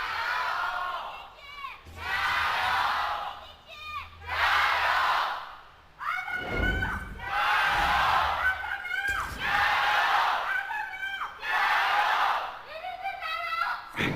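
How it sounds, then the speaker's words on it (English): Big esports arena crowd in Shanghai at a League of Legends LPL match chanting and cheering in loud rhythmic bursts, roughly six surges separated by brief dips, with deep thumps under one swell. "Now it's about time to hear from the crowd and who they think is going to win this one."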